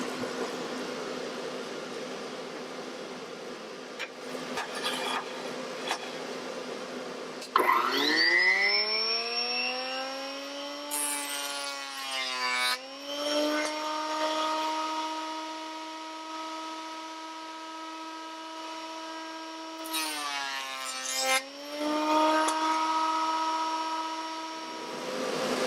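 Wood jointer in a cold home garage workshop, its motor spinning up with a rising whine near 8 s, running steadily with strong tonal harmonics, briefly dipping as boards pass over the cutter around 12 and 20 s, loud and close.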